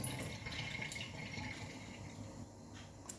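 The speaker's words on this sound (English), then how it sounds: "So I'm going to rinse that up again a few more times" Basmati rice being rinsed under a running tap, water pouring steadily and continuously into a sink or bowl at close range, with no talking.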